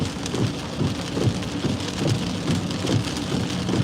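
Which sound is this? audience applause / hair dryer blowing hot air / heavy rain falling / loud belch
heavy rain falling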